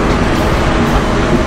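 The Padma Express passenger train runs along the line, a loud continuous rolling rumble and rattle heard from inside, steady and close with no talking.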